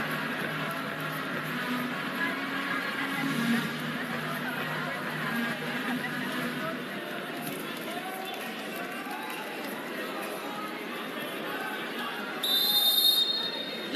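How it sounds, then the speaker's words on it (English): A short, sharp, high referee whistle blast rises above steady arena crowd noise at a 2019 SEA Games men's volleyball match, Philippines vs. Vietnam, with faint commentary near the end. "A whistle was blown."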